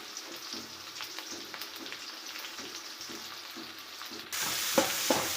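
Potatoes, onions and dried red chillies sautéing in a pan, a moderate sizzle with soft rhythmic stirring that grows louder and brighter near the end.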